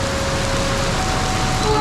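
Heavy rain pours steadily during a motorcycle tour from Jakarta to Larantuka, a dense, continuous hiss of drops at close range with no voices over it.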